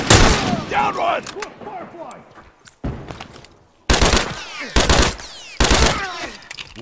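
Rifle gunfire in The Last of Us: several sharp, loud shots ring out in bursts in the second half, with a busier stretch of combat noise and crackle before them.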